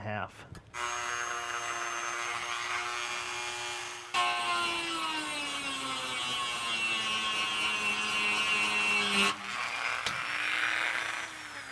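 A Dremel rotary tool whines at high speed in long steady stretches, its pitch dipping under load while cutting plastic trim in a truck, with brief pauses between passes.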